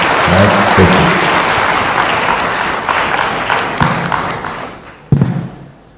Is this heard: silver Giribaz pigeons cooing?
no